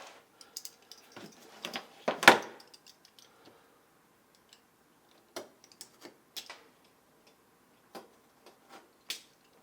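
A blade trims excess material against a metal frame while building a DIY LED neon quasar tube light, giving sparse, quiet ticks and scrapes with one louder scrape near the start and a few faint clicks afterward.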